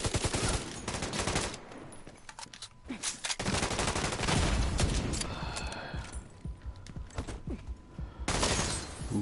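Rapid gunfire and bursts of automatic weapon shots in The Division 2 video game, loud and continuous across the clip with scattered single shots, shattering debris and brief pauses between volleys.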